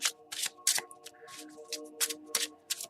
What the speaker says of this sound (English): I want to shuffle a little bit longer.